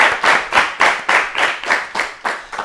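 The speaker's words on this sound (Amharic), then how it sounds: "አጨብጭቡላቸው በደንብ።" Close, loud clapping from the studio audience of an Ethiopian children's TV show, about ten sharp claps in a steady unison rhythm, with no one speaking over them.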